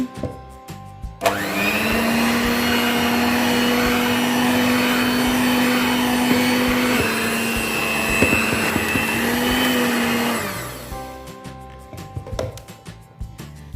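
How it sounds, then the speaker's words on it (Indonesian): Electric mixer beating marble sponge cake batter at its lowest speed, a steady, loud whirring hum that starts abruptly, runs unbroken for about nine seconds, then cuts off. "Kemudian mixer lagi dengan kecepatan yang paling rendah"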